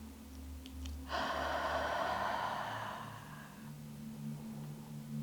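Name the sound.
deep cleansing breath in through the nose, out the mouth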